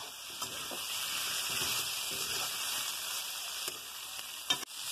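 Papaya and potato pieces fry with coriander and cumin powder in a pan, giving a steady, close sizzle with faint stirring clicks and one sharper knock near the end.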